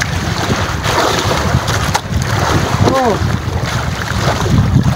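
Strong waves and gusting wind surround a boat at sea, a constant loud rushing roar with buffeting on the microphone; a voice briefly exclaims midway.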